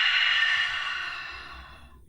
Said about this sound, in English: And then we're going to open our mouths and blow it out.